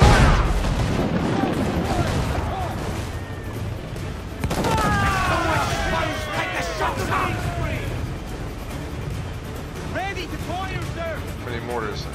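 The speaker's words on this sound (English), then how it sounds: "Infinite mortars." Ship-fired mortars in Assassin's Creed IV, a steady barrage of booming blasts and crashes at sea, with people talking throughout.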